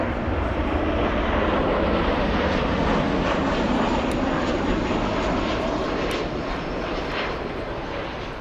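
An Embraer E175 jet airliner passes at Frankfurt airport, a loud, steady broadband engine roar that holds through the whole stretch and fades slightly at the end, with no voices.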